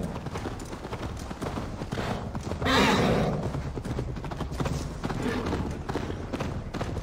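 Horse hooves galloping hard in Assassin's Creed Valhalla, a steady close clip-clop rhythm running throughout, loud and continuous with a brief rushing swell near the third second, no speech over it.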